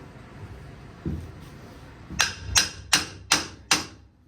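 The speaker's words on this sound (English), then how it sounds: "And smack it down. And hammer." A dull thud, then five sharp hammer blows in an even rhythm, close and loud, with no talking.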